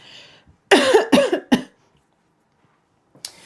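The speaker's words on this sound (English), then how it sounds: "I'm starting to cough." Several harsh coughs in a quick burst, close by, followed by silence and a short final cough.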